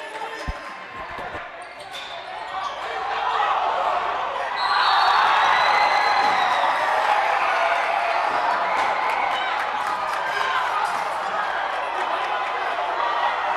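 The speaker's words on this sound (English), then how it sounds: "This atmosphere, the crowd is into it." A high school basketball crowd in a gym, Green Tech versus Pharos Academy, swells into sustained cheering and roaring under a commentator's voice, with sneaker squeaks and a ball bounce early on.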